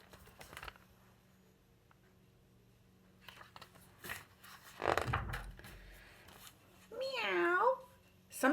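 A storyteller's voice imitates a cat's meow during a children's read-aloud, a rising and falling wavering cry near the end that follows soft rustles, a thump and quiet spoken words.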